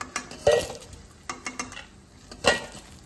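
Fried dahi vada (bora) being lifted out of a wok into a bowl, with a few sharp metallic scrapes and clinks of a utensil at irregular intervals over faint background frying.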